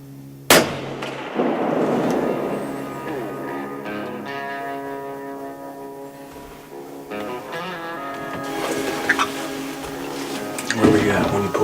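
A rifle shot fired at a doe during a youth hunt cracks out loud and sharp near the start, followed by outdoor ambience and quiet talk between people nearby.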